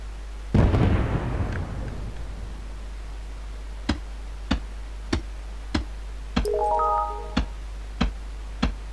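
Blasts go off in the mining video game Gem Miner 2: one big booming explosion with a rumbling tail, followed by a string of sharp, evenly spaced ticks and a short rising chime.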